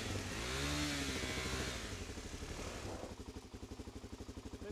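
A motorcycle, either a DRZ400SM or KTM 390 Adventure, accelerates gently nearby on a winter ride, its engine rising briefly and then settling into a steady pulsing throb, no talking.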